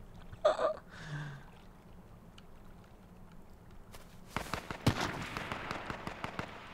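Gunshots in the battle royale game H1Z1, a hunting rifle among them: a couple of faint early cracks, then a rapid cluster of sharp shots later on, with little talk.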